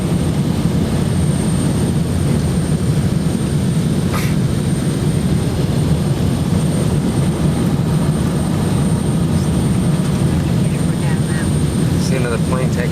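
Airliner cabin roar on a 1990 Continental flight to London during the landing approach into Gatwick, a steady loud broadband engine and airflow drone running throughout, with faint voices murmuring underneath.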